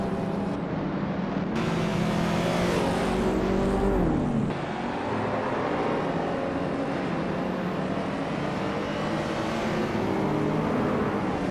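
Several racing cars run continuously on a track, engines droning and shifting pitch as they overtake one another, loud and steady throughout.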